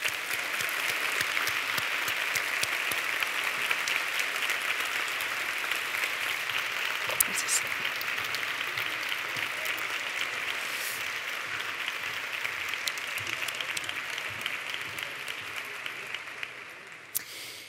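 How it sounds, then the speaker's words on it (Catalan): A big crowd at a university graduation ceremony gives loud, sustained applause. Dense clapping keeps a steady level for well over fifteen seconds and then tapers off near the end. "Un aplaudiment ben fort."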